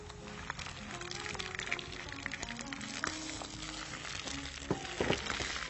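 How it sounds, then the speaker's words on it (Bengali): Onion frying until light golden in a pan as ground spice pastes go in, with a steady close sizzle and crackle, occasional louder pops and stirring scrapes, and no talking. "পেঁয়াজটাকে হালকা সোনালি রং করে ভেজে আমি এর মধ্যে সব বাটা মশলাগুলো দেব"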